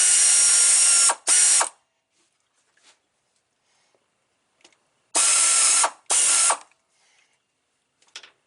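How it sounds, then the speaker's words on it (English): An air ratchet spinning out a bolt during compressor, condenser and expansion valve replacement on a 2010 fifth-generation car, two pairs of loud, close, buzzing bursts separated by quiet pauses with faint clicks. "spin it out with the air ratchet"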